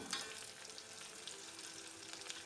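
Oil sizzles and crackles steadily as eggplant fries, a continuous bright hiss with small pops throughout.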